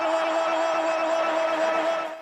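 A large stadium crowd cheering and roaring for Messi, a sustained, steady wash of voices that fades slightly at the end.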